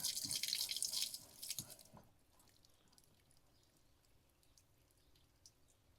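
Water splashes briefly from a newly installed outdoor hose bib just shut off, then thins to faint trickling and scattered drips as the spigot drains out.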